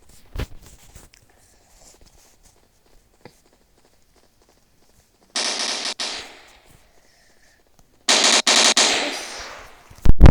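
Gunfire in the mobile shooter Standoff: a single early shot, then two loud rapid automatic bursts of about a second each, the second longer, with faint footsteps between them in near silence.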